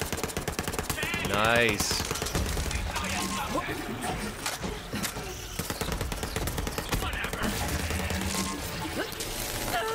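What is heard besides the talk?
SMG gunfire in Borderlands 3 video game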